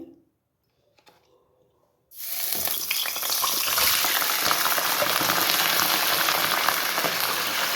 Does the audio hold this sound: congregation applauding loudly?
no